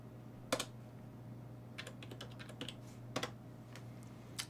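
Quiet typing on a computer keyboard during switch configuration, scattered sharp key clicks in short irregular runs over a constant low electrical hum.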